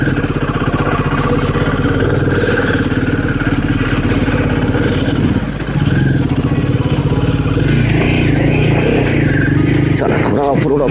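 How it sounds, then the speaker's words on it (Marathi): A motorcycle engine running steadily as the bike rides off-road uphill toward Malhargad fort, a close, loud engine drone that dips briefly and then revs harder near the end, with talk over it. "चला, थोडा ऑफरोड करत जाते बाईक तर वरती."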